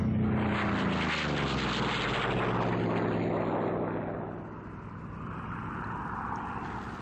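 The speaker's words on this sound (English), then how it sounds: "Let's get airborne. Full throttle." A propeller fighter's engine roars at full throttle in the IL-2 1946 flight game, a loud, continuous drone with a deep throbbing hum that dips slightly partway through and then holds steady.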